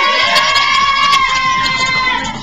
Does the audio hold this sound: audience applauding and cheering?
yes